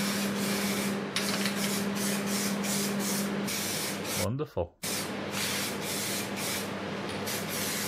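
A spray gun hisses continuously while laying a coat of finish, a close, steady rush that cuts out briefly midway before resuming; a voice speaks a short word over it.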